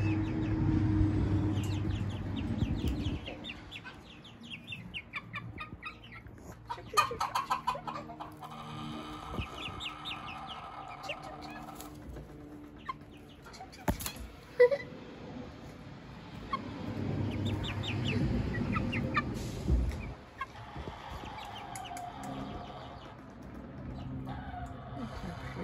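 Welsummer and Wyandotte chicks cluck and peep in a barn, a steady soft chorus of short calls with some low background rumble and occasional bumps.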